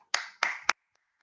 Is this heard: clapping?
yes